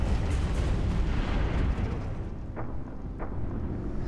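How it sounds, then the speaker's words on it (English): Battleships fire from range in the space strategy game Stellaris: Nemesis, a dense rumbling barrage of booming blasts and bursts, loud and continuous, easing off with a couple of sharper pops near the end. "we have the battleships that are just hanging out over here. Just shooting from range."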